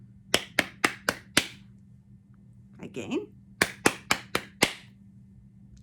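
Hands clapping a rhythm in a children's music lesson: two groups of five crisp, evenly spaced claps close by, separated by a short spoken word.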